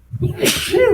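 A single sharp human sneeze, close and abrupt, lasting under a second with a breathy burst and voiced tail.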